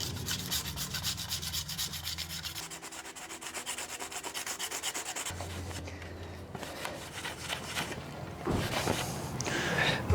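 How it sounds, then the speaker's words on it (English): Steady rhythmic rubbing and scraping of sandpaper on a wooden paddle, close and continuous, with a few louder strokes and light knocks near the end. "sanding is necessary for the varnish phase"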